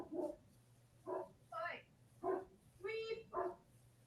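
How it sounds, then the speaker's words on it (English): A dog barking outdoors after dark, six separate sharp barks spaced roughly half a second to a second apart, moderately distant and fairly quiet over a low background hum. "What's he barking at?"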